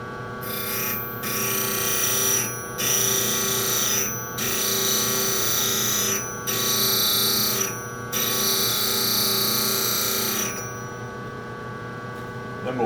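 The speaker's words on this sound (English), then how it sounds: "Then we'll flip it over to the second side and begin grinding the other side." A round skew chisel for woodturning being ground on a bench grinder: a steady high-pitched grinding whine that rises and drops in repeated passes of about two seconds each over the constant motor hum, cutting out near the end.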